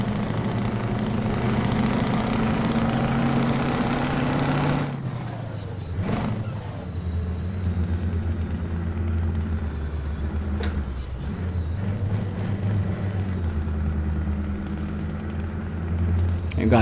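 A vehicle drives up a snowy road, its engine droning steadily and loudly close by, with a brief dip in revs and occasional knocks and clunks; people talk over it at times.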